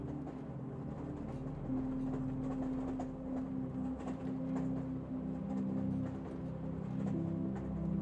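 A train rolls steadily along rails in a continuous low rumble with a faint rhythmic rattle of the carriages and a thin sustained hum, fairly close and even throughout, with no voices.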